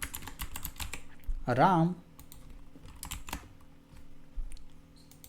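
Quiet typing on a computer keyboard during web-development work, scattered sharp key clicks in short bursts with pauses, and a brief spoken word partway through.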